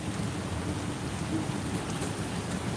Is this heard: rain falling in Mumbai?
yes